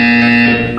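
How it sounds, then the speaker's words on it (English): Electronic buzzer from the video game Portal 2, a single loud, tonal alarm-like buzz sounding steadily before tailing off slightly at the end. "You will hear a buzzer. When you hear the buzzer, look up at the ceiling."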